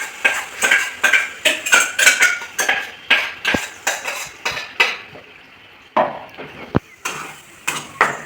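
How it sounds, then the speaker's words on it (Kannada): A spoon stirs ground puree into paneer curry in a pan, making quick repeated scrapes and clinks against the metal in an uneven rhythm. The sound is close and there is no speech. "ಆ ಗ್ರೈಂಡ್ ಮಾಡಿರೋ ಅಂಥ ಪ್ಯೂರಿನ ನಾನು ಇವಾಗ ಇದಕ್ಕೆ ಮಿಕ್ಸ್ ಮಾಡ್ತಾ ಇದ್ದೀನಿ"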